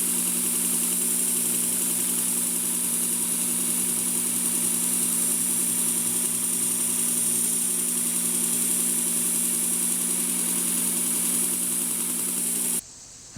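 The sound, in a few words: Worksharp blade grinding attachment grinding a knife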